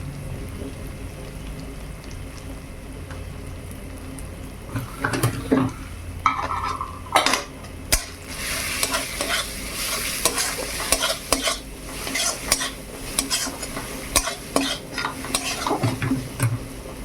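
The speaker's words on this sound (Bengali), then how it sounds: "আদা রসুন খুব সুন্দর ভাজা হয়ে গেছে।" Ginger and garlic fry in a pan for an oily, spicy crab dish, a continuous sizzle under frequent scraping and clattering strokes of a spoon stirring against the metal, close and busy throughout.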